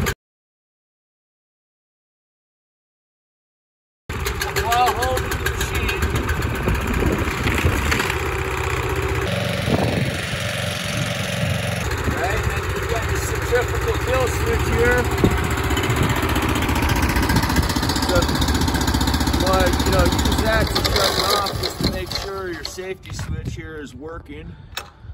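Power trowel engine starting after a silent pause, then running at a steady, close mid-pitched idle with a slight shift in tone partway through, while someone talks over it.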